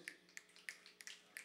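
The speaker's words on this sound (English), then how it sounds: "You can snap your fingers." An audience at a rock show snaps fingers after a poem, several sharp snaps ringing out in a loose, quick rhythm, fairly faint and with no voices.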